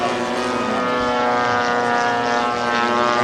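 A Stinson Stuka Sportster propeller airplane's engine drones steadily with a strong, even harmonic hum and buzzing prop tone, loud and close throughout with no break.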